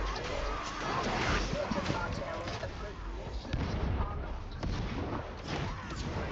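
Grenade explosions in the video game Darktide boom through dense, constant battle noise, with heavy low rumbles and crashes layered under someone talking.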